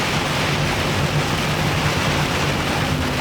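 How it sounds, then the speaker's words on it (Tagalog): Sudden heavy rain downpour heard from inside a vehicle on a city road, a dense, steady broadband roar that holds at one loud level throughout with no talk. "Biglang buhos naman tong napakalakas ng ulan"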